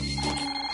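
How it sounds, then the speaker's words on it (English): A magic toaster in a cartoon rings like a telephone, giving a brief, steady electronic trill that sounds close and clear. "Your toaster's ringing."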